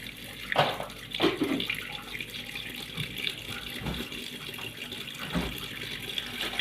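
Raw chicken is rinsed under a running kitchen tap, a steady splashing water stream with irregular louder gushes and clatters as the pieces are handled in the sink.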